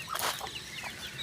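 Pet ducks call in a short burst of quacking from close by, a brief nasal squawk over faint background noise.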